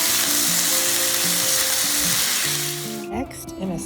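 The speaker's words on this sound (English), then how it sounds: "I'm going to go ahead and cook up these home fries so that they are cooked all the way" Home fries sizzle and crackle steadily in a pan, a loud dense hiss throughout, with a tonal hum underneath and a brief clatter of stirring near the end.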